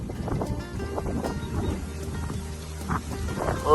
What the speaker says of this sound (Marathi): पाऊस यायला लागला.